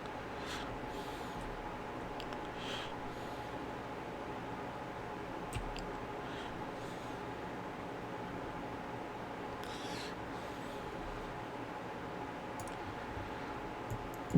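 Sparse, faint clicks from a computer keyboard and mouse during a PC gaming session, scattered across a steady hiss of fan-like background noise with no talking.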